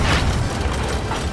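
Ship cannons firing in the pirate game Sea of Thieves, a loud, booming mechanical rumble over a short moment, heavy and close with rapid overlapping thuds.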